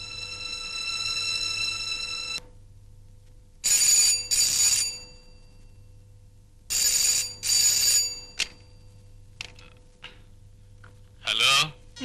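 A telephone in a dramatic movie scene rings for an incoming call: one sustained bell tone, then paired trilling rings repeated at intervals, with the final ring cut off as other sounds begin.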